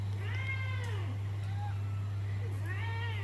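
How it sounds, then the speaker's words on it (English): A cat meows several times, drawn-out rising and falling calls spaced across a few seconds, close by over a steady low hum. "And keep meowing."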